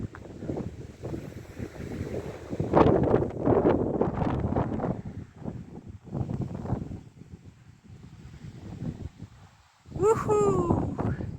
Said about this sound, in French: Ouh là là, en plus il y a le vent, il est devenu très fort là.